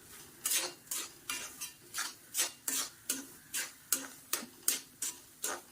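Rava roasts in a pan over a medium flame while a spoon scrapes and stirs it in regular strokes, each one a crisp, close scrape-and-tap, evenly spaced about twice a second.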